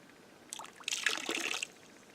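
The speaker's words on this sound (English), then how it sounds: "bringing the water to the back side of your pan, your material to the top side where the riffles are, you're going to slowly let the water come around" Water swirling and sloshing across a gold pan with riffles while sorting crevice material: a soft trickling and splashing that rises for about a second, then fades out, quiet and close with no talking.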